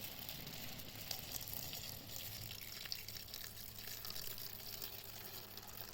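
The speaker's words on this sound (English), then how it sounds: "Take your hot water and pour enough in to cover your jewellery." Hot water poured into a small container to cover silver jewellery on foil, a faint, steady trickling splash with soft hiss, heard alone without talk.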